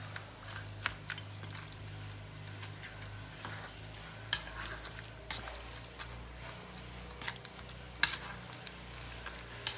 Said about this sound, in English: Mash them all together like this.